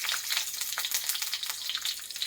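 Garlic cloves hit hot oil already seeded with a little nigella (black cumin), giving a loud, close, steady sizzle and crackle that continues without any voices.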